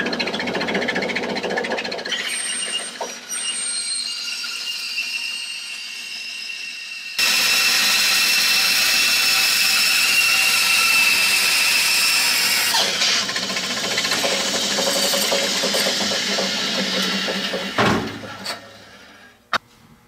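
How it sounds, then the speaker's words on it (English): Bandsaw rough cutting the arch of a small wooden garden gate: a steady machine hum, then a louder, harsher cutting roar for about ten seconds before it winds down and stops. "I'm going to rough cut the arch out on the bandsaw"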